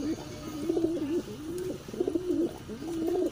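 Pigeons coo in a loft where a pair is raising a second clutch of eggs, giving soft repeated throaty coos close by in several rolling phrases.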